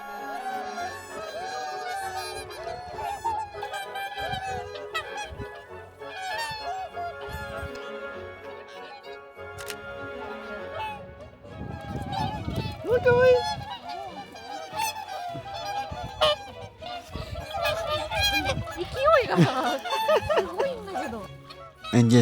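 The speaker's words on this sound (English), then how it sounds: "It's a haven for whooper swans or hakucho that migrate all the way from Siberia" Whooper swans wintering on a steamy lake shore in Hokkaido call in a dense, overlapping chorus of nasal honks, with louder bursts toward the end and some faint talk in the background.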